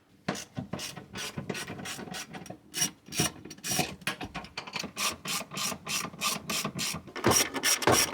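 A hand ratchet clicks in fast, rapid bursts as it works a seatbelt bolt loose inside a slightly flood-damaged Toyota, the close metallic pawl ticking dense and steady with a few pauses throughout.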